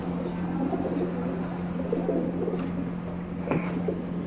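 Older male roller tumbler pigeons in a loft in Bangalore, India, give low, steady coos over a constant hum, with a brief louder call near the end.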